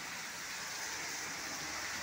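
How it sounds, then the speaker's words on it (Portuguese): Steady rain pours down outdoors around a house, a dense even hiss filling the whole stretch with no pauses and no voices. "Olha a chuva, gente."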